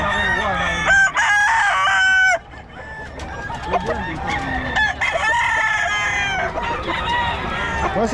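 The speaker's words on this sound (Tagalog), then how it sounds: "Boss Red, magkano mga manok mo ngayon?" Roosters crow loudly and repeatedly nearby, overlapping with hens clucking throughout, a busy farmyard chorus.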